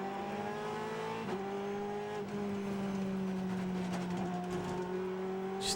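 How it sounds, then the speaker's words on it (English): Sports car at speed on the Laguna Seca track during a 2011 American Le Mans Series race, its engine holding a steady whining drone with shifting tones as the car rattles along, captured at moderate distance without voices. "Just listen to the car rattling around"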